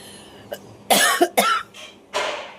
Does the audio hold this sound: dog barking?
no